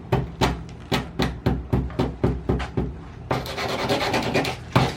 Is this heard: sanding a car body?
yes